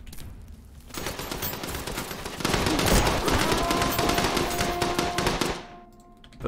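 Sustained machine gun fire in the WW2: Bunker Simulator game, a dense continuous rattle that builds after a quiet start and runs for several seconds before cutting off abruptly.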